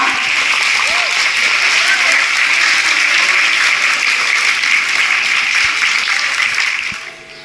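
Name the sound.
applause for first year class A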